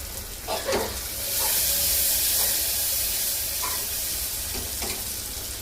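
Tomatoes and salt fry in a hot pan with a steady sizzle and hiss, broken by a few soft stirring scrapes, close and moderately loud, with no talk.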